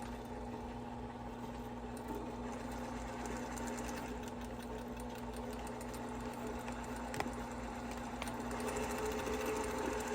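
A Brother PQ1500SL semi-industrial sewing machine winds a bobbin with a steady, close mechanical whir and hum, running continuously without pause and with no talking over it.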